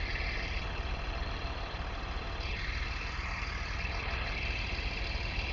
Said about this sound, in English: Awesome bus, man. I love how this motor sounds.